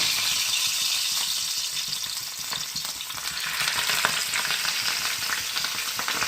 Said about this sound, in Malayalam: എണ്ണ ഒഴിച്ച് കല്ല് ചൂടായിട്ട് മീൻ പറക്കി വയ്ക്കാം